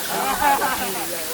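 Rushing water at the Takhro twin waterfall in Thailand, a continuous broadband hiss and roar that stays fairly steady, with a voice talking over it.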